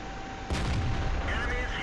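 The cannon of an M26 Pershing tank fires in the World of Tanks video game, a single loud booming shot with a rumbling tail, heard close.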